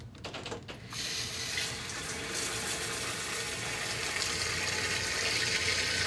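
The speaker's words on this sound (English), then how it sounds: "So I'm gonna turn this on to show you what the water should look like when the carbon's flushed." Clean, carbon-flushed feed water runs from a GrowoniX EX1000 Deluxe water filter system in a steady, even stream, a continuous close hiss and splash after a brief clunk as the flow starts.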